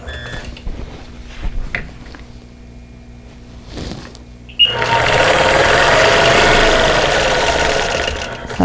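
A sewing machine quilts an embroidered quilt square, starting after some quiet handling noises and then running in a loud, steady, close whir for several seconds.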